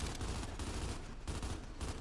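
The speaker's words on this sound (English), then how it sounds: "Incoming fire!" Rapid, dense bursts of gunfire from Gears 5 multiplayer crackle in close, continuous volleys with a few brief gaps, and no voices are heard.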